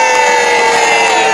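A crowd at a Halloween event at Warwick Castle cheers and whoops for the Earl of Warwick, a loud sustained roar of voices with shouting tones.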